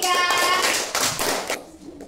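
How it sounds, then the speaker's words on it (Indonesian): A class of children claps for a group of classmates during a school lesson, a dense burst of hand claps that thins out and fades toward the end, with a few voices mixed in. "Tepuk tangan untuk kelompok 3"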